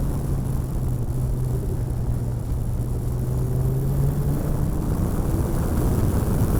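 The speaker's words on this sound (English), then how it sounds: "the whirring of the turbos" A turbocharged race car on a track at Laguna Seca rumbles steadily under load, with a sustained whirring whine from the turbos riding over a broad engine roar, heard from inside the car with no talking.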